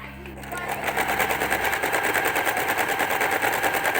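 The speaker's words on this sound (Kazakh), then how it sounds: "Енді бірге қойып тігіп көрейік." Sewing machine stitching fabric, starting after a brief quiet moment into a fast, steady mechanical rattle of rapid needle strokes, loud and close, running continuously to the end.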